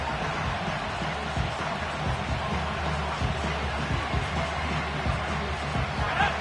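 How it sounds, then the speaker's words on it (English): Football stadium crowd noise before a third-down play, a steady dense roar with rising cheers throughout, loud and continuous with no distinct voices. "This crowd into it now as we get to 3rd down."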